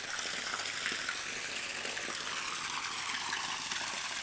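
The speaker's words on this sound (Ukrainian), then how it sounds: "У нас зі скважини тече вода." Continuous rushing of water from a borehole pouring and splashing into a pool at a steady level, a constant hiss-like gush with no voices.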